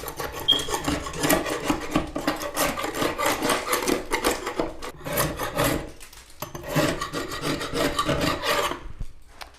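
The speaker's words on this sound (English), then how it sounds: "we're going to scrape as much of this off as possible" A 5-way paint scraper rasps steadily across a wall, scraping off peeling, chipping paint in continuous close, loud strokes with a brief pause near the middle.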